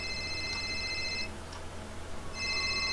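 Telephone ringing in a psychological horror simulation game: repeated electronic ring bursts at the start and again near the end, separated by a quieter gap over a steady low hum.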